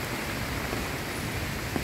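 Rain pours steadily during an evening storm in July, a dense, even hiss with no break across the brief stretch.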